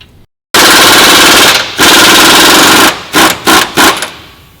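Impact wrench removing a bolt on a 2017-2019 Ford F250 Super Duty suspension, rated at 800 foot-pounds of reverse torque, hammers close and loud in one long burst followed by several short rattling bursts.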